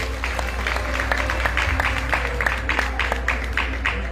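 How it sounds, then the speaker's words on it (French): An audience at a graduation ceremony applauds a hospitality and catering graduate, a continuous patter of many hands clapping at moderate volume over a low background hum. "Sur vos applaudissements, s'il vous plaît."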